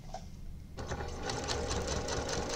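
A sewing machine stitches an old placemat into a clutch, its rapid mechanical whirring rhythm starting abruptly after a quiet moment and running steadily close by.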